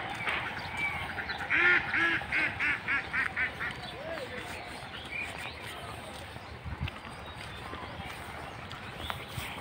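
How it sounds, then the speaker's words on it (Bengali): Ducks out on village fields in Nachole, Chapainawabganj, give a short run of rhythmic quacks at moderate distance, set against faint outdoor ambience and scattered low noise. "কত হাঁস।"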